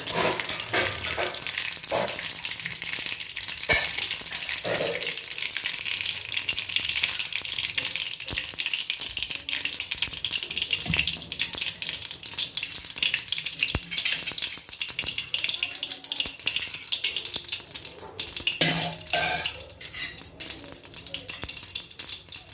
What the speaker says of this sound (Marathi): गरम तेलामध्ये मोहरी टाकली की लालसर होईपर्यंत